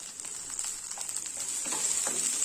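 Chopped tomato and chillies sauté in a pan for chutney, giving a bright continuous sizzle with occasional spoon scrapes, close and loud, with no voices.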